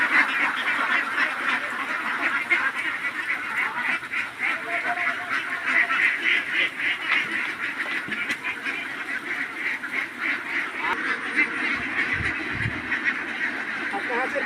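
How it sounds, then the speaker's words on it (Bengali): A huge flock of domestic ducks on a farm in Rajshahi district quacks without pause, a loud, dense, overlapping chorus of nasal calls filling the whole stretch. "হাজার হাজার বতক হাঁসের পাল"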